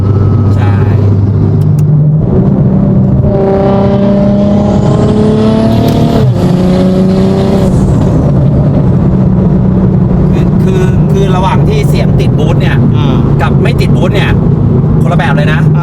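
Tuned BMW from M-TEC Engineering accelerating hard, loud engine climbing through the revs in rising sweeps with gear changes, followed by a rough lower drone and clattering, with people talking over it.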